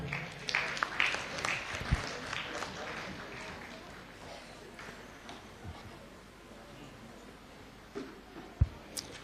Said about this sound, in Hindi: चलिए जोरदार तालियां।